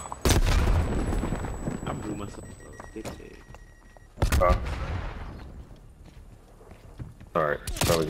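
Gunfire in Call of Duty Black Ops Cold War on the Nuketown map, with bursts of shots and booms loud in the mix, under players talking over one another.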